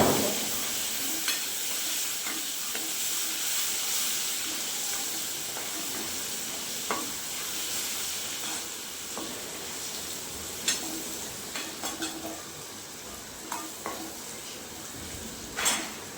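Tomatoes with ginger and garlic sizzle steadily in a pan for an egg curry, with occasional sharp clicks and scrapes of a spoon stirring, fairly close and continuous with no talking.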